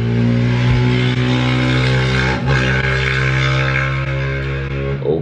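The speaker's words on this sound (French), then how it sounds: "merci à la moto qui vient de passer" A motorcycle passes close by outdoors, its engine roaring loudly and steadily before the sound shifts and recedes near the end.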